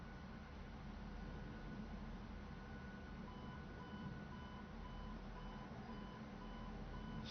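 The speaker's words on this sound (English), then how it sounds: "So I'm getting some warnings there." Warning beeps sound in the F-14B Tomcat cockpit in Microsoft Flight Simulator, faint repeated tones over steady engine and cockpit noise.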